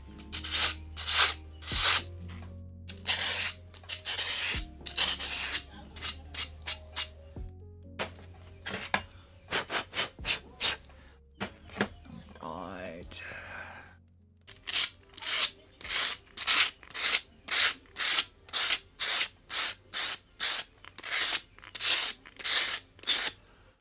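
Rhythmic hand sanding of a kintsugi piece, with a long run of evenly spaced rasping strokes that pause briefly and then resume at a steady, quicker pace, fairly close and clear with no talk.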